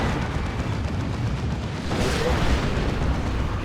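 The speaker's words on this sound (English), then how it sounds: "There's a rocket run." Rocket run explosions in Warhammer 40,000: Dawn of War 2, with Imperial Guard fighting Tyranids: a dense, continuous rumble of blasts and booms that swells and grows louder partway through, with no talking.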